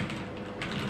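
Quick typing on a Cherry MX Board 2.0 keyboard with linear Cherry Red switches, soft rapid key taps in a dense close stream over a low background hum, no voices.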